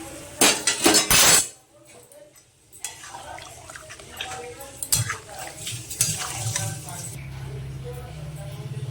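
Egg curry with potatoes simmering in a pan after water is added, with a few loud stirring scrapes and clinks of a utensil against the pan at the start, then a soft, steady bubbling simmer with occasional clinks.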